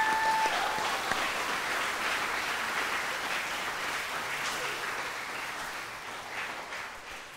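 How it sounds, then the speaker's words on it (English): Audience applause for young filmmakers at the Filmit Festival awards ceremony, a broad, even wash of clapping from a hall full of people, sustained and gradually easing in level. "A round of applause to all the young filmmakers."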